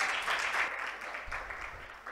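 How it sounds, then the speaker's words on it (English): Short burst of audience applause at an HIV and adolescence conference session as a doctor walks up to the stage, steady mid-level clapping that tapers slightly toward the end. "Can we give him a round of applause as he comes up?"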